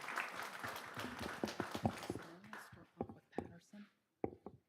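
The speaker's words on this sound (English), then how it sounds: "Let's give them a big round of applause." An audience at a school board meeting applauds a student group, a wash of clapping that fades out after a couple of seconds and gives way to scattered voices and footsteps.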